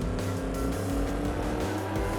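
A repo truck speeds down a straightaway in Farming Simulator 25, its engine holding a steady, loud, high-revving drone with a slight pulsing rise and fall throughout.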